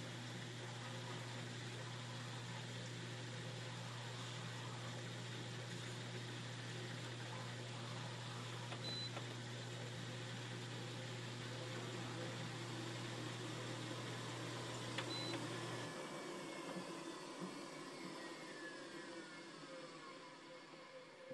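A Whirlpool washing machine drains water through a newly installed drain pump: a steady low motor hum runs for about sixteen seconds, then cuts off, leaving a quieter background.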